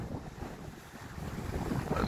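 Wind gusts buffet a boat out on the water, a rough, continuous roar of wind noise with faint wave wash underneath and no voices.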